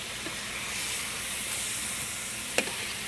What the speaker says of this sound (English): Let me stir my meat. My meat is going to burn.